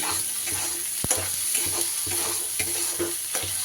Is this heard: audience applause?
no